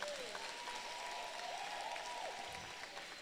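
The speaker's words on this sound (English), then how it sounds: "let's give a round of applause to everyone that stayed here" Event audience at a development bootcamp applauding, a fairly quiet, steady wash of clapping heard from a distance, with a faint sustained tone running over it.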